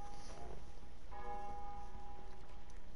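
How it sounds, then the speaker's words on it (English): Bell ringing in Untitled Goose Game, a clear sustained metallic tone that starts a second in and rings on faintly beneath steady game ambience. "Chuffing bell again."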